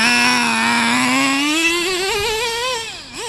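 A modified Dynamite .19T nitro engine in a Revo 2.5R RC truck runs loud and close on a full tank, a high buzzing whine that holds steady and then rises and falls with throttle, with no talk over it.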